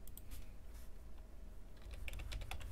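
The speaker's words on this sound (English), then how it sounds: "You're gonna hear me typing" Computer keyboard typing, a quick irregular burst of soft key clicks close to the mic, with a denser flurry near the end and no speech over it.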